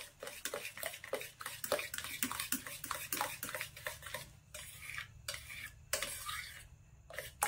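Spoon or whisk clatters steadily against a bowl while a cake mixture is stirred and mixed, producing a close, rhythmic series of scraping clinks with no talking.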